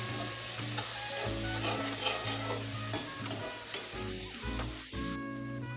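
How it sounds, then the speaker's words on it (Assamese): Ginger paste and spices frying in a wok for an Assamese fish curry, a steady sizzle with scraping stir strokes over a low hum, close and moderately loud, with no talking. "অলপমান আদাৰ পেষ্ট কৰিছিলো সেইখিনি আমি ইয়াতে এড কৰি দিম আৰু ভালকে অকণমান ফ্ৰাই কৰিম"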